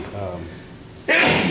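A sharp, loud sneeze bursts out after a brief inhale and some quiet breathing.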